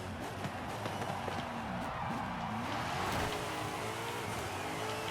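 A widebody Corvette C8 in a Forza Horizon 5 rallycross build, engine revving and shifting through rising and falling pitches at steady loudness, with tire and road noise and faint talk underneath.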